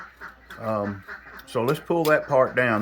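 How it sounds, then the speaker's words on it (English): Ducks quack in a sequence of nasal calls, several short honks in rapid bursts, close by, mixed with someone talking. "We got ducks and chickens and stuff."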